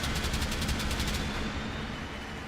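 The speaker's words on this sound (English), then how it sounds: "Fireworks!" Fireworks go off in rapid, crackling bursts over a loud arena crowd at a wrestling event, the rattling stopping after about a second while the crowd roar carries on.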